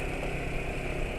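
A motorcycle engine running on Ipone M4 oil mixed with a Stelizinc additive, a steady close mid-pitched drone with a low rumble and no pauses through the short stretch.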